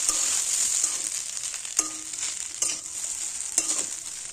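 Chow mein sizzles in a hot pan with a constant close crackling hiss, broken by a few sharp scrapes and clinks as it is stirred.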